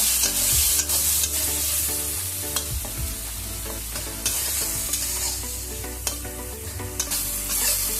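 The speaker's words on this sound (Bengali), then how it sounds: "ভালো করে ভাজা ভাজা করে" Tomato frying in a pan for a Bengali kajoli fish curry, heard as a close, steady sizzle broken by occasional spatula scrapes and knocks, with no talking.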